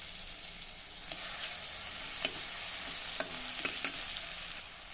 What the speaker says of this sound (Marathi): एक मिनिटासाठी हा खरडा आपण जरा तेलावर परतून घेऊ।